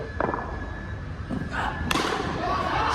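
A cricket bat strikes the ball for a six during an amateur local match outdoors, heard as a sharp, loud crack followed by duller thumps amid crowd noise and background talk.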